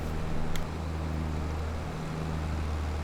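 A tractor engine in Farming Simulator 22 labours uphill with a steady, loud low drone that holds constant under load, broken only by a brief high click near the start.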